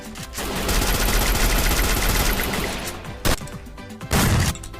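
Rapid automatic gunfire from an enemy engagement in a mobile battle-royale shooter, solo against a squad, sustained bursts for about three seconds, then a short gap and a couple of louder closing shots, with no talk.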